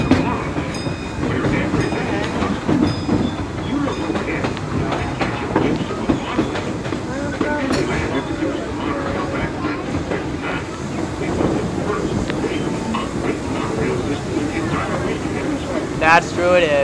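The Disneyland Railroad train rolls along its tracks with continuous rumbling, rhythmic clickety-clack and occasional hiss, heard close and loud throughout while people talk over it.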